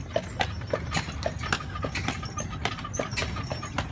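Hooves of a three-year-old Belgian draft horse clip-clopping at a steady walking rhythm, clear and fairly close, with light background noise and no speech.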